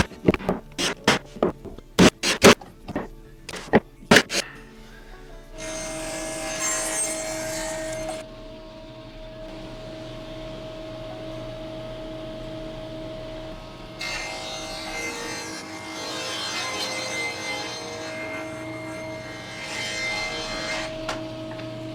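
Wooden support pieces for a plywood shop cart being worked: a quick run of sharp knocks and taps, then a long stretch of rough rubbing and rasping on wood with a steady machine hum beneath, no talk.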